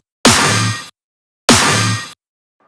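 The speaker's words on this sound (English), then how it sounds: "My full snare sounds like this." Two identical hits of a heavy layered dubstep snare built from triangle, regular snare, clap and another snare sample, each a loud bright crack with a short noisy tail, evenly spaced and played alone.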